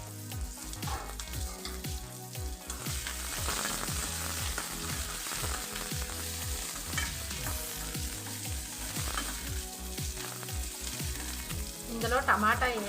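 Chopped green chillies and garlic fry in oil for bottle gourd curry, a steady close sizzle with repeated rhythmic stirring clatters and scrapes throughout, and a louder flurry near the end.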